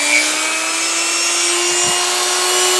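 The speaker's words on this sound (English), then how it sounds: "I've just got a regular old Dremel. It's variable speed." A variable-speed Dremel rotary tool whines steadily at low speed while polishing a Native American flute, a close, loud continuous motor tone with a faint rubbing contact sound and no speech.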